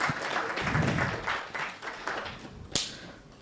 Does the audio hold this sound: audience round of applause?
yes